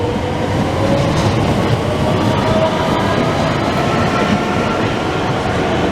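A Class 465 electric multiple-unit train departs Grove Park station, a loud, steady rumble of wheels and traction noise close by, with a continuous roar and faint rail clatter that lasts the whole stretch.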